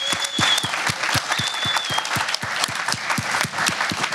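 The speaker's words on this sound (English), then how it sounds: "So first of all, round of applause for everyone who's here." Loud, close applause from the crowd at a youth leaders panel event, dense continuous clapping with a few sharper individual claps and a faint whistle-like tone above it.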